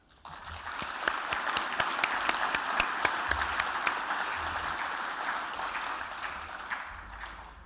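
An audience at a Yakima Rotary Club vocational scholarship award ceremony gives warm, sustained applause for a scholarship recipient, steady clapping that swells quickly, holds for several seconds, then gradually thins out.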